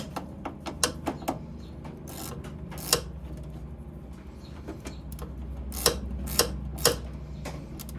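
A ratchet with a 1/2-inch socket turns on a battery terminal bolt on a 2013 Simplicity Conquest riding mower, giving quiet, irregular clicks spread over a low background hum.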